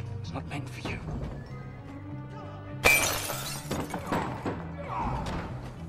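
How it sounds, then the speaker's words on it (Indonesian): Glass bottle smashing over a man's head during a fight in a pirate film, a sudden loud shattering crash midway through, followed by tinkling debris and scuffling over background music. "Jack berhasil ditangkap setelah kepalanya dipukul menggunakan botol"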